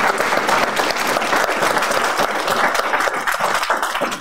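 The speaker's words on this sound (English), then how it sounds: "So if we could give one more round of applause" A large audience at a graduation ceremony applauds steadily, dense continuous clapping filling the whole stretch at a loud, even level without letting up.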